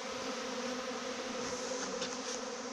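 Honeybees flying in to a six-frame hive, a steady, fairly close buzzing drone of many wings that holds evenly throughout with no talk.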